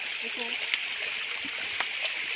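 Steady broadband rush of a tall waterfall pouring down at a scenic falls, loud and continuous, with faint splashes and brief vocal sounds over the roar.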